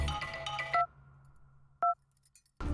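A telephone gives two short electronic ring chirps, about a second apart, against a quiet low hum, with a brief rustle before the first chirp and a thump at the end.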